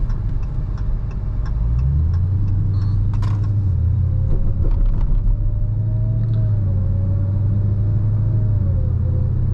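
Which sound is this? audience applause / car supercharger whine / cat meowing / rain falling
car supercharger whine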